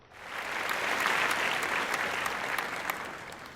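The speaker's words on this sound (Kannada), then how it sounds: "ಚಪ್ಪಾಳೆಯೊಂದಿಗೆ ಅವರಿಗೆ ಶುಭಾಶಯವನ್ನು ಕೋರೋಣ." Applause for an award recipient at a women's achievement award ceremony, a steady wash of crowd clapping that swells quickly and holds evenly, moderately distant.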